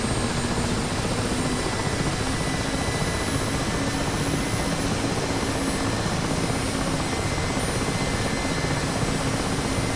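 Mi-8 helicopter engines in a flight simulator game running steadily as the throttle advances from ground idle toward flight idle, a loud, constant turbine roar and whine with no speech over it.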